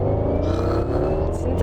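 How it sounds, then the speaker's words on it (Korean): Porsche Cayenne Electric Turbo on the move, its synthetic EV drive sound blended with a subtle V8 engine tone, a steady low hum with layered tonal bands heard from inside the cabin. "전기차 사운드 플러스 약간의 V8 엔진 사운드를 내주고 있기 때문에"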